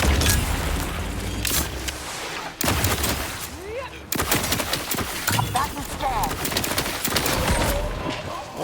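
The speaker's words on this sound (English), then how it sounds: "Hey, Buckshot Bill, have a grenade and a second grenade." Grenades go off amid gunfire in the video game The Outer Worlds 2 on an ice planet, sharp booms and crackling shots over continuous game noise, with bird-like calls and a speaking voice mixed in.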